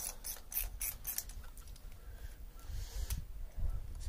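A socket wrench loosening stubborn, seized hose clamps on a MerCruiser boat engine, close and fairly quiet rapid ratcheting clicks in short bursts against low mechanical rumble, with no voices.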